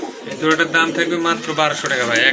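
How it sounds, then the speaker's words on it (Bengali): Pigeons coo in low, rolling bursts, close and fairly loud, one call running into the next. "মাশাল্লাহ খুবই সুন্দর এক জোড়া কবুতর"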